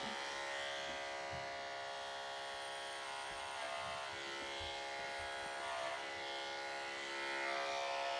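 An electric hair clipper hums continuously at a grade 2 setting while cutting hair, a steady close buzz with slight shifts in tone as it moves through the hair.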